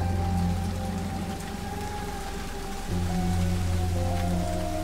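Steady rain falls across an animated city scene, a dense continuous hiss of drops on surfaces with low droning tones beneath, holding at an even loudness throughout with a brief dip midway.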